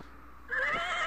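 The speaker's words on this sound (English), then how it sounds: "You slip the bridle over the horse's head. It whinnies its approval." A horse whinnies in King's Quest 2, a short, bright neigh that rises suddenly after a moment of quiet and rings on to the end, close and alone.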